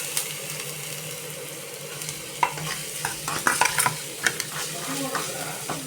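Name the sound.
onions frying in oil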